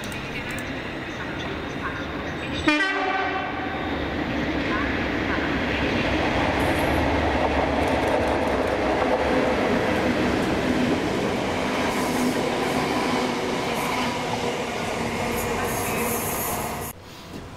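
Locomotive 37884 drags electric unit 318266 on a Kilmarnock to Yoker run in Scotland. A loud roar starts suddenly and a steady rumble of wheels on rails carries on close by for around fifteen seconds before cutting off.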